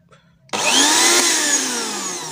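A repaired electric blender that had been completely dead switches on with a sudden start after a moment of quiet, then runs with a loud, steady motor whir that eases slightly toward the end.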